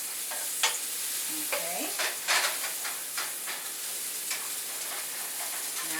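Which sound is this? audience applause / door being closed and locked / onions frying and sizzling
onions frying and sizzling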